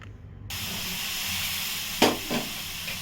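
Warm milk poured bit by bit into roasted semolina and coconut in a hot pan for modak dough, giving a sudden sustained steamy hiss after a quiet start, with a couple of sharper sizzling bursts.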